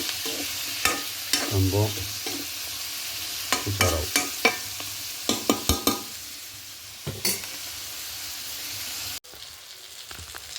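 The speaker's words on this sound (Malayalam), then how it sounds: "കരിയാപ്പില ഇട്ടിട്ട് ഇളക്കി" Beef fry with curry leaves being stirred in a pan, with repeated scraping strokes over a steady sizzle, loud and close, followed by quieter frying and a brief spoken remark.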